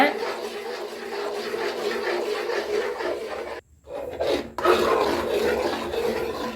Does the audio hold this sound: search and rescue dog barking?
no